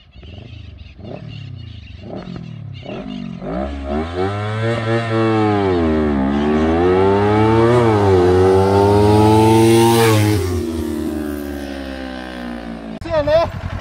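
Kawasaki Ninja 300 and Ninja 400 motorcycles racing each other, engines revving in quick blips and then climbing through a long, loud high-rpm pull before backing off, close to the microphone.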